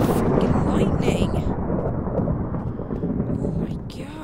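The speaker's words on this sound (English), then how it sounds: "Stop with the freaking lightning!" Thunder from lightning in the Minecraft video game rolls loudly through the whole stretch, a deep sustained rumble with rain-like hiss that slowly eases off, with no speech over it.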